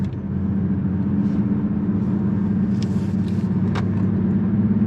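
A 2022 Lexus RC 350 F Sport coupe cornering at speed, giving a steady loud engine drone with road and tire noise inside the cabin, plus a few brief higher-pitched squeaks.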